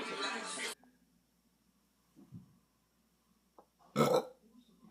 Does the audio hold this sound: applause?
no